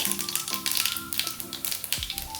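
Mustard seeds, cumin and asafoetida spluttering in hot oil for a no-garlic, no-onion tomato gojju, giving close, rapid, irregular pops and crackles over a soft sizzle.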